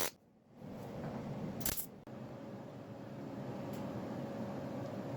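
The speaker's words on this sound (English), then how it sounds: "And now we're just installing plug welds." A welder lays plug welds on a replacement auto body panel, a close, steady crackling buzz that starts after a short pause and runs continuously, with a brief sharp snap around the two-second mark.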